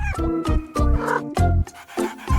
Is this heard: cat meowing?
yes